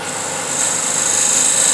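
A woodturning scraper cutter is slowly pushed into spinning wood on a lathe, giving a steady, bright scraping hiss that grows slightly louder and harsher as the tool bites in, with no talk.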